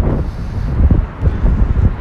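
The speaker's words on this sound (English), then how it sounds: "it is quite windy out there" Loud, gusty wind buffets the microphone downtown with a low rumbling roar that swells and dips throughout.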